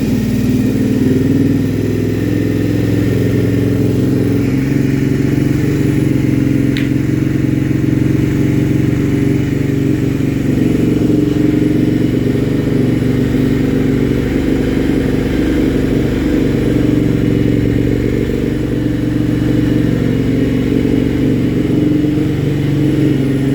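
Triumph America motorcycle engine with the clutch pulled in, running loud and close with a steady low rumble throughout, no talking over it.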